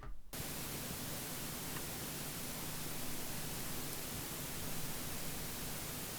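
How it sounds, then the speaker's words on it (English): Steady broadband hiss like old tape, a constant even noise bed with a faint low hum underneath, starting abruptly after a brief silence. "And then we've got hiss."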